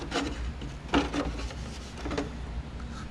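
Cutting out a car kick panel under the steering column, producing repeated scraping, rasping strokes at close range with a few sharper hits, no talking.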